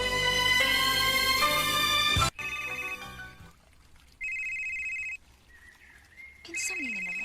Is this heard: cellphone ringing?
yes